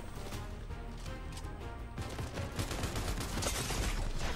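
Rapid gunfire in a Fortnite match, a dense continuous burst of shots and impacts that grows louder toward the end, with no talking over it.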